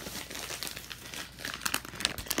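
Plastic candy wrapper crinkling and crackling up close, a continuous rustle that grows busier and sharper toward the end, with no talking.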